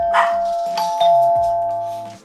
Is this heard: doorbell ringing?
yes